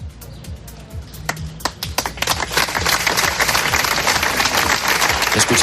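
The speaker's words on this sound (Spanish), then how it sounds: "Escuchamos los aplausos con los que se rompía ese minuto de silencio" Applause from a crowd gathered outside a government delegation building, ending a minute of silence held to condemn a sexist murder. Scattered claps come first, then quickly swell into dense, steady clapping that holds to the end.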